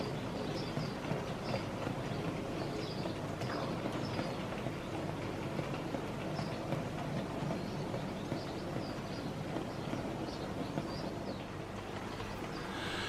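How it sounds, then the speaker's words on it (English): Continuous rumbling and chuffing of BR Standard Class 9F 2-10-0 steam locomotives, including a Crosti-boilered one, a dense mechanical roar with faint clatter and a bird or two chirping in the background. "enjoy both these fine locomotives in action, with real sound"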